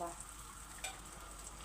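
Sfenj dough fries in hot oil in a pan, giving a brief, fairly quiet, steady hiss of bubbling oil with one small pop partway through.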